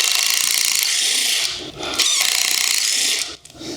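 A pneumatic impact gun loosens pre-cracked bolts on an Audi Q7 VR6, a loud, close, continuous high-pitched whirring hammer that briefly drops out, then resumes and stops.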